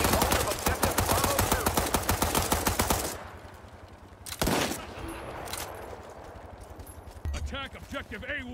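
FAMAS rifle fire in a video game: a rapid close burst of sharp automatic shots for about three seconds, then a lone shot and a couple of shorter bursts, with voices talking over parts of it.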